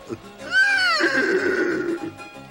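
A horse whinnies loudly and close by, a rising then falling neigh lasting about two seconds, in a French-dubbed Lucky Luke cartoon.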